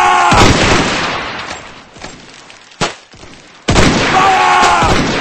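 A volley of rifle fire in the Roblox game Zulu Wars, with loud booming gunshot blasts opening and closing the clip and a sharp single shot between, each trailing off in rumbling echo.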